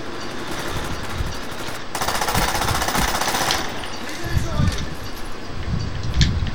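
Rapid automatic gunfire from a hard-to-control weapon in the video game Call of Duty Black Ops, sustained bursts rattling loudly with short gaps, alongside other in-game noise and a voice.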